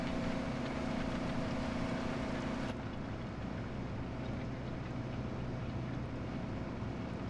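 A low, steady tractor engine drone in the video game Farming Simulator 2017 with a constant hum runs throughout, its higher hiss dropping away partway through while the rumble continues.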